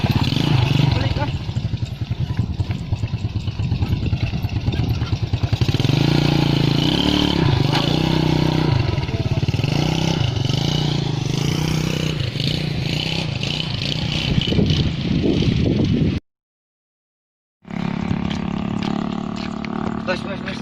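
A motorcycle engine runs and revs continuously while riding, a rough droning roar with rising and falling pitch under constant talk, broken by a brief gap of silence near the end.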